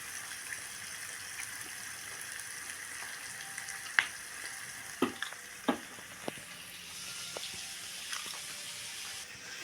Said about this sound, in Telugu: చింతపండు రసం అయితే వేసేస్తా